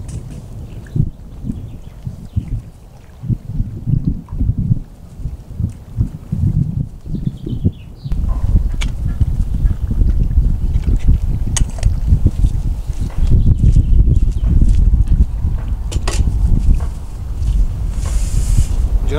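Wind gusts across the microphone outdoors at a car campsite, rough low rumbling that turns stronger and steadier partway through, with quiet talk and small movement sounds.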